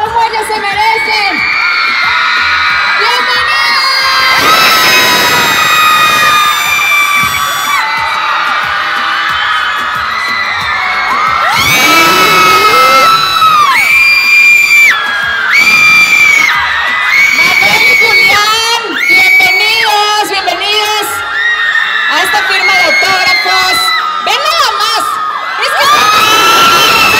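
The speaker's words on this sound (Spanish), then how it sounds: "Así que vamos a recibirlos con un fuerte aplauso." A large crowd at a live concert cheers, whoops and shouts loudly and continuously, with high excited voices rising in waves throughout.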